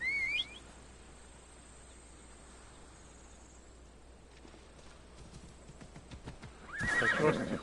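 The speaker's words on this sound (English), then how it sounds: "The trusty horse." A horse whinnies briefly at the start and again near the end in Assassin's Creed Odyssey, with soft hoof clip-clop and a faint insect-like ambient bed between, the closing neigh louder.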